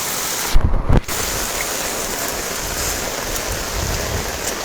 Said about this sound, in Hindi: कितनी ज्यादा बारिश हो रही